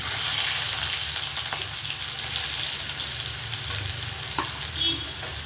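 Chopped onion with cumin seeds sizzles steadily in hot oil, a continuous bright crackle with a few faint stirring knocks, close and without talk.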